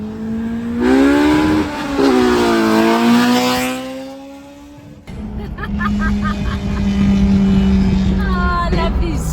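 A K24-engined all-motor Honda Civic sleeper revs hard, its high-pitched exhaust note climbing and falling loudly, then a second loud run of revving with engine whine follows after a brief cut.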